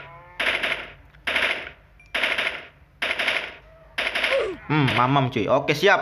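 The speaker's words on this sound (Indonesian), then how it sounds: "ini senjata M16 itu kayak gini cuy suaranya" An M16 rifle from a video game weapon addon fires in five short bursts, evenly spaced and loud, with someone speaking briefly in between and over the last shots.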